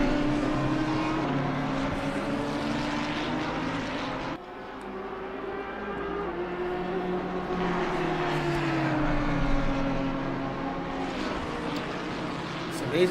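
Race cars lap the Kyalami circuit in the Pan Am Racing PC sim-racing championship final. A continuous engine drone shifts pitch as the cars accelerate and brake, heard under ongoing commentary talk.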